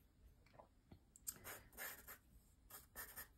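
Pencil sketching the stem of a toadstool mushroom, heard as faint, close scratchy strokes in short bursts with small pauses between them.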